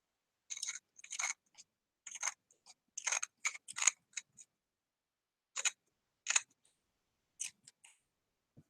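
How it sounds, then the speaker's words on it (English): Scissors snip felt trimmed along the edges of coaster art tiles in short, crisp clusters of cuts separated by quiet pauses, close up and fairly faint, with no voices. "you just take your scissors and trim her down"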